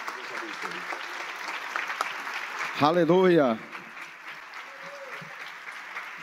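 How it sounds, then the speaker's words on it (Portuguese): Church congregation applauding during a service, a steady wash of clapping throughout, with a loud voice shouting briefly over it partway through. "Mas vamos receber o servo de Deus aplaudindo ao Senhor Jesus pela vida dele."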